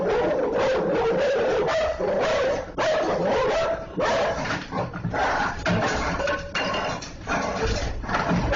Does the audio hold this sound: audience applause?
no